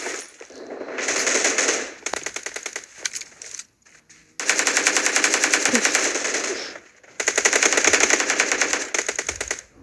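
Automatic gunfire in the PUBG Mobile video game comes in long rapid bursts of crisp, evenly spaced shots, separated by short pauses and a near-silent gap, loud and close.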